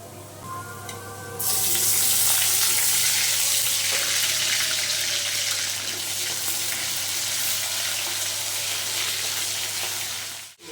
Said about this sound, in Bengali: এখন পেঁয়াজ দিয়ে শুটকিটা দিয়ে দেব।